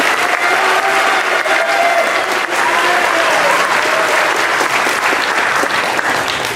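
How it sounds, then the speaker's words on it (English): Loud, sustained audience applause at a spring school band concert in an auditorium, dense clapping from a large crowd with a few faint voices calling out beneath it. "How about a round of applause, Mr."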